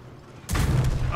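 Tank cannon firing a high-explosive round in a tank video game: a single sudden loud boom after a quiet moment, followed by a rumbling tail.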